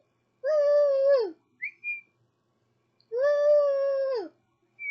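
A person imitates crowd cheers and whistles with their voice: two long, rising-and-falling whoops, each followed by short whistle-like chirps, close and loud against silence.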